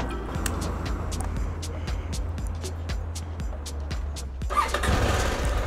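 A new trail motorcycle's engine cranks with a rapid train of ticking starter clicks over a low hum, then catches near the end into a louder, rougher running note, close by and without speech.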